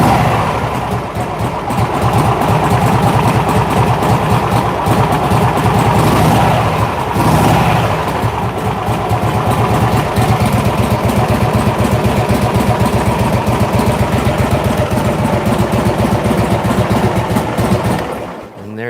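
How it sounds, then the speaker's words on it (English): A restored vintage 61-cubic-inch motorcycle with a 4-speed transmission idles close by, a loud steady rapid chugging engine throb that runs on without a break until it cuts off at the end. "We're gonna crank this thing up here right now so you can hear how your new bike sounds."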